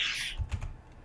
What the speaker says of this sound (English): I have my fingers on the keyboard.